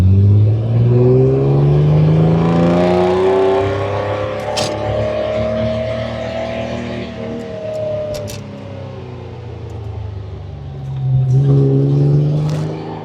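A 1964 Austin Healey 3000 MK2 being driven, its engine note loud and close, rising and falling through gear changes with a fading lull midway before revving up strongly again near the end.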